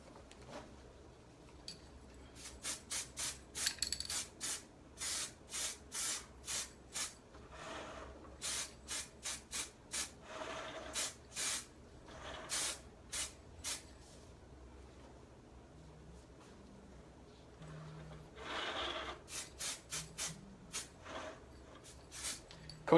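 Repeated short bursts of spraying in a workshop, hissing pulses in quick rhythmic series with pauses between, fairly close and moderately loud, with occasional light handling knocks and no talk.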